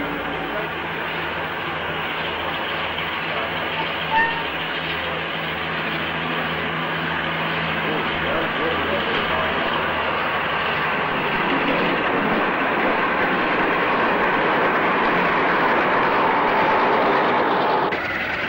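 A Western class diesel-hydraulic locomotive, D1016 Western Gladiator, rumbles into a 1960s station with a steady, droning engine note that swells gradually louder as it draws near.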